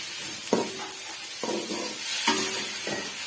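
Sliced large tomato sizzles in a hot pan for egg fried rice, with soft frying hiss and several brief stirring scrapes spaced through the moment, close and moderately quiet, no talking.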